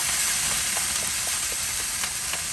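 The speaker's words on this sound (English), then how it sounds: "Ooh, sizzle, sizzle." Steady crackling sizzle of pork fat dripping onto the fire in a smoker, with faint pops scattered through a continuous hiss, close and fairly loud.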